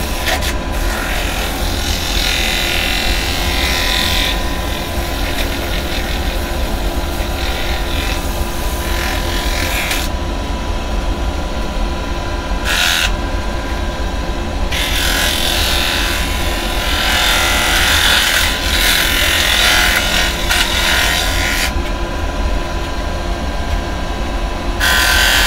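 A banksia nut spins on a wood lathe while being sanded. A loud, continuous motor whir carries a gritty hiss of abrasive that rises and falls across the surface, with short dips as the sanding pauses.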